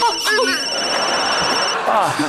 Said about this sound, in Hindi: हाँ किसका फोन है? अब तेरा ही बज रहा